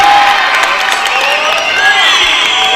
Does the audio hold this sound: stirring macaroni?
no